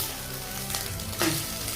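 Small fish fries in hot oil in a pan, browning to a reddish colour, giving a brief, steady crackling sizzle that swells slightly near the end.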